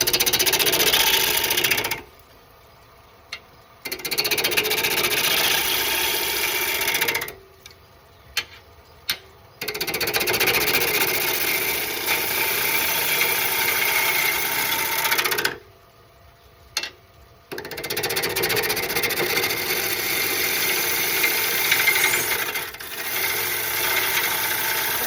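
Wood lathe roughing out a green wood bowl, a steady motor hum with rhythmic ticking as the gouge hits the spinning corners, stopping briefly three times and resuming, close and fairly loud.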